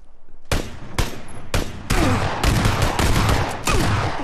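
Gunfire in a first-person shooter video game: a series of loud, sharp single shots at roughly half-second intervals, building into denser overlapping fire with echoing tails.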